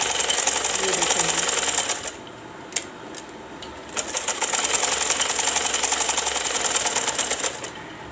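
A sewing machine runs a line of stitches through folded fabric while sewing a women's sleeve, with a dense, steady mechanical chatter that stops for about two seconds midway and then resumes at full pace.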